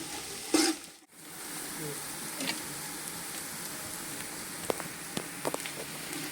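Onions fry steadily in oil for chicken dum biryani, producing a faint continuous sizzle with occasional light stirring clicks.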